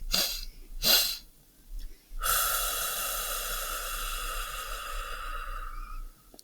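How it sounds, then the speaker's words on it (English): Two quick, sharp sniffing inhalations through the nose are followed by a long, steady exhalation with an airy hiss, close and clear, and no talking. "So it's 2 inhalations and then a long exhalation."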